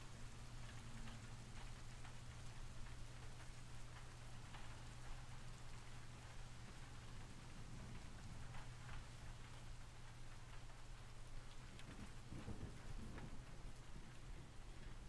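Recorded rain ambience plays as a steady, even wash of falling rain with a faint low rumble underneath, quiet and continuous throughout, with no voices.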